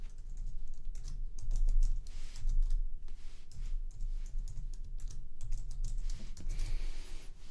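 Someone types a password on a computer keyboard while adding a user on a VPS server, a quick, uneven run of close key clicks with short pauses.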